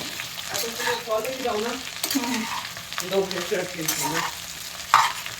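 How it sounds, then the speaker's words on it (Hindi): Okra fries in a little oil in a kadai with a steady close sizzle and occasional stirring scrapes, while a voice keeps talking over it. "यहाँ पर मैंने कढ़ाई में थोड़ा सा तेल डाला है, उसमें भिंडियों को डाल दिया है"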